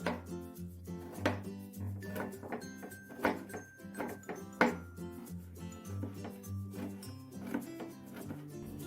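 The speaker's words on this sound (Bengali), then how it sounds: "মূলোটা আমি একদম ঝিরিঝিরি করে কেটে নেব" A knife finely chops radish on a cutting board in a steady run of crisp, close thunks, some strokes louder than others, with faint background tones and no speech.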